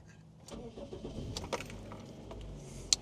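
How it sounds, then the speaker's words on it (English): A 1997 Toyota Corolla Spacio with a 4A-FE engine cranks briefly and catches, settling into a steady idle, captured close by, with a sharp click near the end. "So we'll first start it up."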